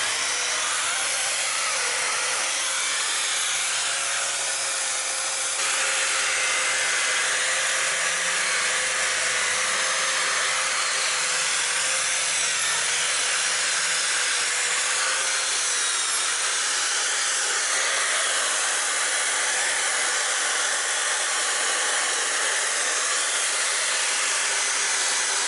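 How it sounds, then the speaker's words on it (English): A regular drill spinning a wire brush attachment scours light, flaky rust off a truck drive shaft, giving a steady, loud broadband whir and hiss that runs continuously with slight shifts in pitch and no talking. "Just use a regular drill with a wire brush attachment."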